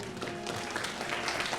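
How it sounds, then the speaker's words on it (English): Applause from an audience at a student video game demo event for the Greek-themed game Wrath of Zeus, a brief, steady wash of clapping with crowd noise throughout. "And a round of applause for Zeus"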